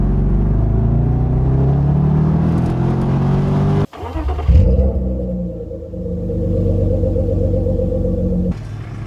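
A BMW 650i E64 convertible engine rumbles steadily and loudly at close range, cuts off abruptly for a moment, then settles into a lower, even running drone with a brief swell at the end.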